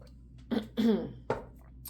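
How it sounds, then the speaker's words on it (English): A few short, dry coughs close to the microphone, three quick bursts with a rough throaty edge. "Wow, that cough came out of nowhere"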